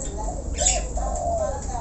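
A caged starling (jalak) in a songbird collection gives a loud squawking call, then a shorter warbling note, over steady low background hum.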